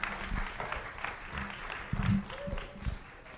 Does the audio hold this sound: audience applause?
yes